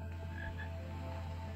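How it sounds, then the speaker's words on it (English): A frog croaks a couple of times in a Roblox Dreamcore/Weirdcore game, against a steady electronic hum and a low droning background. "Where's the frog?"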